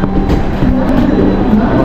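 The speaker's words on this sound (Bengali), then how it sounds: "খড়গপুর স্টেশন ছেড়ে ট্রেন এখন দ্রুত গতিতে এগিয়ে চলেছে।" The Shalimar Gorakhpur Express runs fast past Kharagpur with a loud, continuous rumble and rattle of wheels on rails, close and filling the whole moment.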